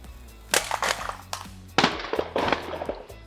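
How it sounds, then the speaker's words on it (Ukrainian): A Pro-Craft PKA44 mini chainsaw is dropped from a stepladder in a drop test, hitting the ground with several sharp, loud clattering impacts and bounces close by. "Перед останньою будемо кидати ПКА 44."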